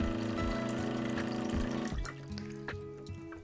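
Water runs steadily into a drinking glass at the start of a weekday morning, a continuous liquid pour with faint drips and small splashes that thins out toward the end, heard alone with no talking.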